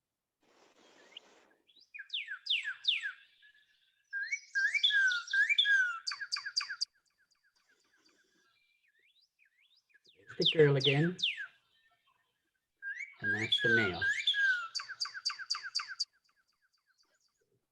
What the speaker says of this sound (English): I've got a recording of a paired duet, so listen to see if you can tell the difference.